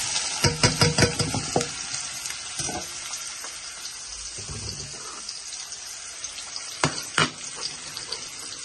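Dal frying with ginger, onion and bay leaf, a sizzle under a burst of quick scraping stirs near the start and a few sharp clanks later, close and fairly loud, with no talking.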